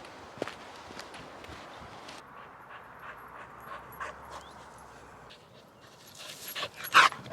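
A small dog playing with a tennis ball indoors, with soft scattered footsteps and paw taps, quiet panting, and a sharp yelp or squeak near the end, all close and low in level.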